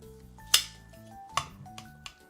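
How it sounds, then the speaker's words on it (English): Stuffed peppers lifted out of a pan with kitchen tongs, giving a few sharp metallic clinks and clacks spread over a couple of seconds against quiet background tones. "One of those things being pulling peppers from a pan."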